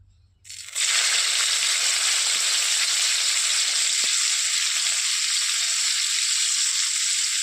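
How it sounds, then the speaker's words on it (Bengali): Loud, steady sizzling of salted, turmeric-coated bitter gourd frying in hot oil in a wok starts abruptly after a brief quiet moment and continues evenly, with a couple of faint clicks. "প্রথমে উচ্ছেটাকে আগে ভেজে নেব। কড়াইতে তেল দিয়ে দিয়েছি, তেল গরম হয়ে গেছে।"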